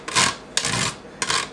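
A ripe tomato rubbed against a hand grater in a kitchen, giving three close rasping strokes, each a short scraping burst with a sharp start, with brief pauses between them and no talk.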